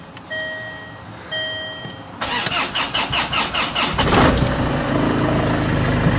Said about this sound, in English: I will just start it and go around the back with it idling just to see what it sounds like.